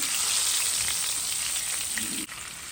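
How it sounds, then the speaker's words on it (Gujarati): Spice paste of turmeric and coriander-cumin fries in hot oil in a home kitchen, a steady loud close sizzle with a brief stir near the end. "તો તેલમાં આપણા મસાલા સંતળાઈ ગયા છે અને તેલ ઉપર આવી ગયું છે."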